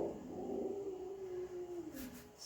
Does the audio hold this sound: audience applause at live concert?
no